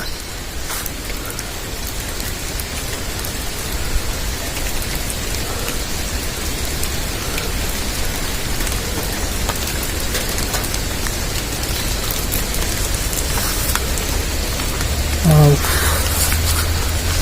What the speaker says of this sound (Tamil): மழையும் பெஞ்சிட்டு இருக்கு